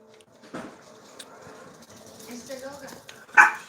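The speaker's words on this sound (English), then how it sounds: "Puppies. I got the puppies here. They're saying hi too." Puppies give a few short yips and barks, scattered and fairly close, mixed with a person talking over them.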